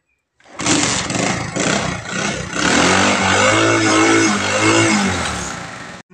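A motorcycle engine starts and settles into a rough, steady idle that runs close and loud for several seconds and then cuts off.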